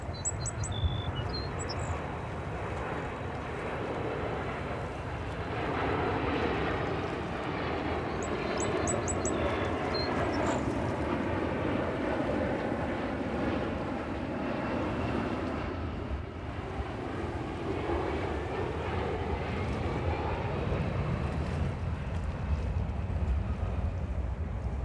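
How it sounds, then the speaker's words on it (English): An Airbus A330 airliner, apparently Delta, lands at JFK Airport with a steady, broad jet roar that swells and shifts in pitch over time, while faint bird chirps sound at moments. "Now that looks another 330 coming in. That looks like Delta."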